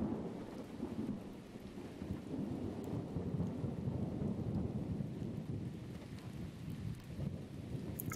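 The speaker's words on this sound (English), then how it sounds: "Listen to occasional thunder." Thunder rolls through steady rain in a forest, low rumbling swelling and easing across the whole stretch, faint and without voices.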